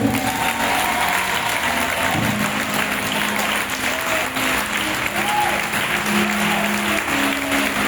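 Loud sustained applause and cheering from a worship audience at a church praise event, dense clapping throughout with crowd voices and faint tonal sounds mixed underneath.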